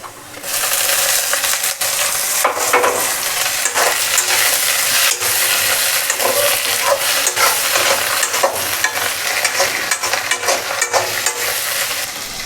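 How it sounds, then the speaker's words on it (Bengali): Dried fish (shidol) tipped into a pan of fried onions sizzles loudly and steadily, with scraping stir strokes and small clinks over the frying hiss throughout, no voices. "পেঁয়াজটা ভাজা ভাজা হয়ে গেছে গা তো এখন এটার মধ্যে দিয়ে দেবো শীতল"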